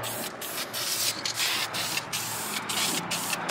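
Light coats of spray paint hiss onto truck wheels in a series of short bursts with brief pauses between them, close and fairly loud.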